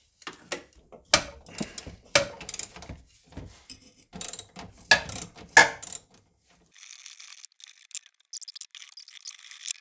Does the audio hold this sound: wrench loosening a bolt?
yes